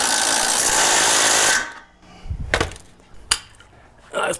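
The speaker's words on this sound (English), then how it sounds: "I wouldn't have thought this Ryobi Impact was capable of it" A Ryobi impact driver tightens a shock absorber bolt with a new bushing on a 1984–2001 Jeep Cherokee XJ, hammering loudly and steadily for about a second and a half before stopping, followed by a few short metallic clanks.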